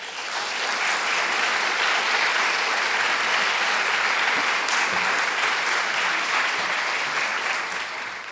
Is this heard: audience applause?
yes